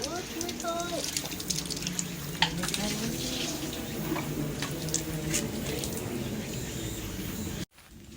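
Spring water pours steadily into a shrine hand-washing basin at Oarai Shrine, a continuous splashing trickle close by with people talking and crowd murmur underneath.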